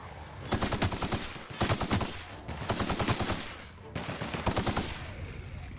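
Four bursts of automatic gunfire in The Outer Worlds, each about a second long with brief pauses between, the rapid shots loud and close.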